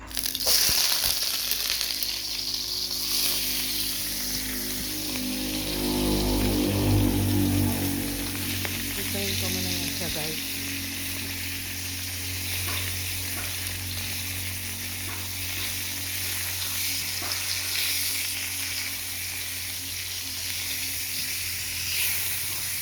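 Dried fish (daing) fries in hot oil with a loud, continuous sizzle and crackle, and the spitting and popping rise and fall across the whole stretch.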